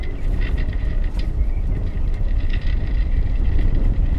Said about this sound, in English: The sails got rolled in and the engine started.